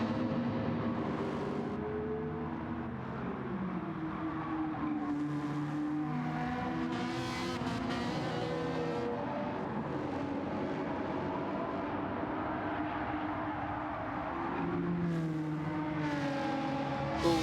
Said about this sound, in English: We'll let you get a listen to those wonderful race cars on track.